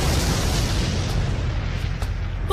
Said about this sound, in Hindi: Fire ball! Fire ball! Fire ball!